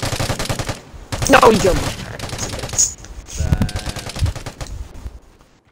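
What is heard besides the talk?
carbine gunfire in the video game Vigor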